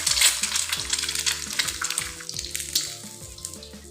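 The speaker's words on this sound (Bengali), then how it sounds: "আমি আরেকটা ডিম ভেজে নিচ্ছি" Steady crackling sizzle of an egg frying in a hot pan, close and continuous, with no voices over it.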